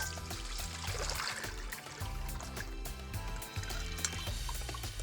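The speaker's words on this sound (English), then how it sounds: "So first thing, I would have to sieve my tamarind water." Tamarind water pours through a sieve in a home kitchen, a steady close trickling stream of liquid running on for several seconds, quiet and alone.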